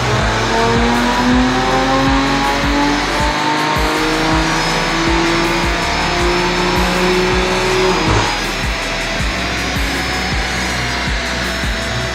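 A turbocharged BMW E30 roars on a dyno, its loud engine note climbing steadily through rising revs with strong harmonics, a brief shift-like break near the middle and another past eight seconds, continuous and close with no talk.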